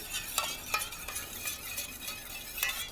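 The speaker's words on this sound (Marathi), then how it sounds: "आता ही गोळी आता चांगली मिक्स करून घ्यायची" A dissolved medicine tablet being stirred in liquid to mix it, used for removing rust stains from cloth; faint, quiet swishing with a few light, rhythmic spoon clinks against the container.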